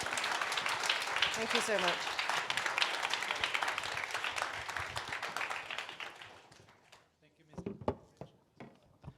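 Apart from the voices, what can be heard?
audience applause for panel speakers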